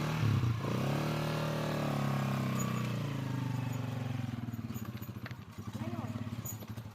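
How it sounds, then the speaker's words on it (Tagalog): A motorcycle engine, started with its kickstarter, runs and revs unevenly nearby while people talk over it. "Andar naman sa kickstarter yan."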